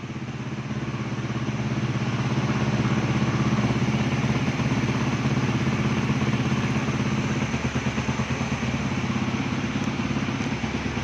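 A Suzuki Raider 150 Fi with about 5,000 on the odometer idles high close by, a loud, steady buzzing rumble with a fast rhythmic pulse that holds throughout.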